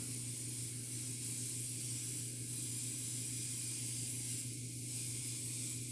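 Blue paint sprayed onto a 1/4-scale sculpted model figure, a steady close airbrush hiss running without a break throughout.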